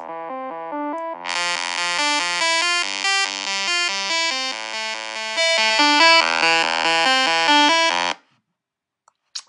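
A hardstyle synth lead on a hard trance track being programmed, a loud buzzing saw-wave line stepping through a choppy melodic pattern, brightening after the first second, playing alone for about eight seconds before stopping abruptly.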